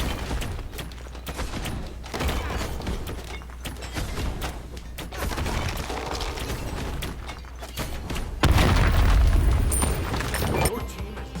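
An enemy tower is destroyed in Smite, setting off a heavy, rumbling explosion that swells suddenly near the end over dense, busy battle noise.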